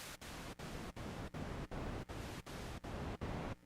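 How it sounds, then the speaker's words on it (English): White noise from a synthesizer noise oscillator, a bright, full hiss cut into regular bursts by short, evenly spaced gaps, quiet and with no voice. "So you can hear that changing that noise, sort of more of a white noise,"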